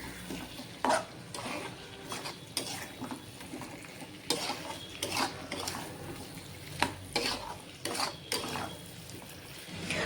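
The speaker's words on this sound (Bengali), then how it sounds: "দিয়ে এবার মশলাটার সঙ্গে ভালো করে কষিয়ে নেব" Fried eggplant and potatoes being stir-fried with spices in a blackened wok, a soft continuous sizzle broken by repeated scraping and clattering strokes of a spatula against the metal, close and moderately quiet.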